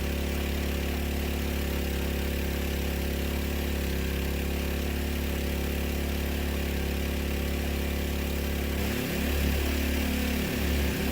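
A water pump engine drones steadily throughout while drilling a well through clay, a constant close mechanical hum whose tone wavers slightly near the end, with no talking.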